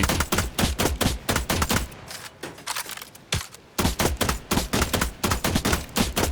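Guns firing in The Last Caretaker video game, loud rapid bursts of sharp shots in a steady fusillade, with a brief pause in the middle before the volley resumes.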